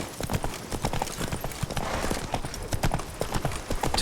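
Roach, Geralt's horse in The Witcher 3, gallops in a steady, rapid clip-clop of hooves that continues throughout at a close, even loudness.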